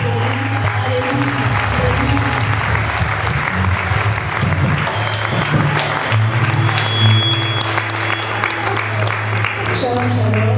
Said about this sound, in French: Alors on va l'acclamer